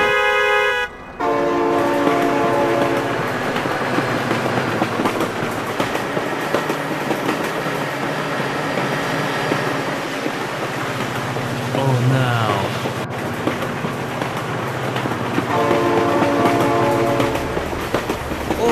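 A train in the BeamNG.drive game rolls past with rhythmic clattering wheels and loud horn blasts at the start and end, while a voice exclaims excitedly throughout.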